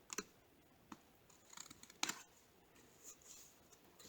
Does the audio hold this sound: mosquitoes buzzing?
no